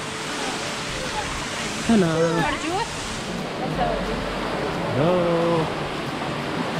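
Steady rushing water from the waterfall inside the Sipa waterfall resort fills the whole stretch as a constant wash, with people talking close by over it.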